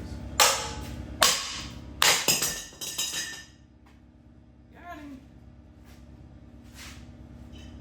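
Several sharp metallic clanks ring out from a small hammer striking welded brackets on a John Deere Flex 71 planter, a quick run of strikes with bright ringing tails, then quieter sounds afterward.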